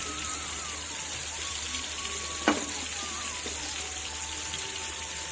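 Masala-marinated fish pieces fry in a pan for a village-style fish fry, giving a steady, close sizzle that runs throughout with one brief sharp click near the middle.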